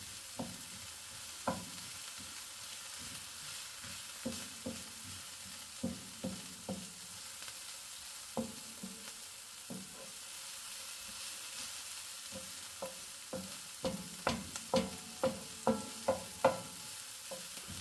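Chopped onion frying in a pan for a bolognese sauce, a steady soft sizzle broken by repeated scraping stirs that come in irregular bursts, growing busier toward the end, heard close with no talking.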